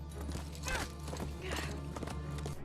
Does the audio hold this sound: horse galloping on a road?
yes